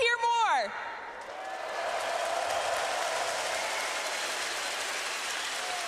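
A crowd at a live event in Brazil cheers and applauds, a broad, steady roar of many voices that fills the space. It follows a short descending electronic sting at the start and carries on evenly to the end.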